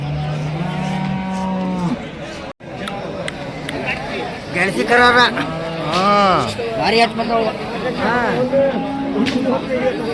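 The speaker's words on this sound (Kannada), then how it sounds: "ಕರುಗಳು" Calves at the weekly Sunday-morning bull and cattle market in Ranebennur moo repeatedly, several long calls rising over a busy crowd with people chatting nearby throughout.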